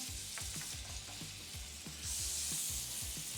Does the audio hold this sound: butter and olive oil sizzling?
yes